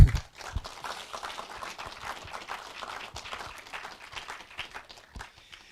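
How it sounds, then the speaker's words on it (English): A small meetup audience applauds a speaker, giving a dense, fairly steady patter of clapping that stays at an even level throughout. "So, big applause for you."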